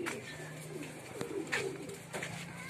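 Pigeons coo softly nearby with a few short wing flutters, in a quiet outdoor setting.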